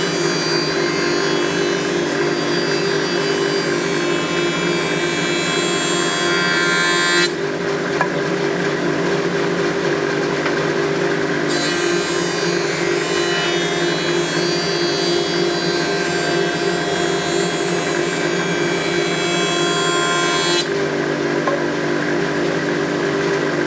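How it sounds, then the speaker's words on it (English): A surface planer runs with a loud steady machine roar as wood is fed across its cutter block, the whine brightening into a harsher cutting tone during each of two passes before settling back; no talking. "I'll turn the surface planer on, and then I'm pushing my wood over."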